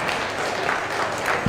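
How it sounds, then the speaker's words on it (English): Sporting applause from a player at a billiards match in the Ozone Billiards Iowa Shootout, a steady, moderately loud wash of clapping with no talk over it. "Tamme very sportingly applauding Bustamante."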